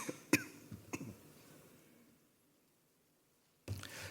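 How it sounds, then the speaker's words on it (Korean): Two sharp, separate coughs close by in a quiet room, a short pause between them, then a burst of another close, rough noise after a stretch of near silence. "왜 기침이 나오지?"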